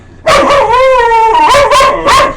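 A dog lets out a loud, drawn-out whining bark followed by two more sharp yelps, close up and dominant with no talk over it.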